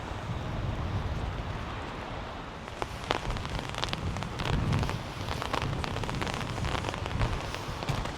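Rain falls outdoors in a steady, dense patter on nearby surfaces, with scattered sharper drop taps joining in partway through; no one speaks.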